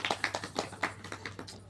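Scattered hand clapping from a small audience at a Hindu wedding ceremony after the seven vows, a thin, uneven patter of claps lasting under two seconds at moderate distance.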